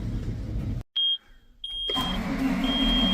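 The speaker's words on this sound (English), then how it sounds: "maybe this tractor will start" A farm tractor's engine cranks and catches after electronic warning beeps, settling into a steady medium-pitched idle that rumbles loudly and continuously.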